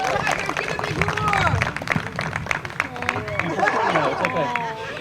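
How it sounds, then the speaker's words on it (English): An audience of parents at a Cub Scout pack meeting claps for the Tiger scouts, a steady patter of hand claps mixed with crowd chatter and voices. "All right, Tigers, give them a round of applause."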